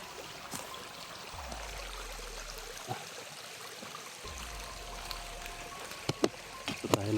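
A small forest creek trickles and burbles faintly in the background, with some knocks and rustles close by near the end.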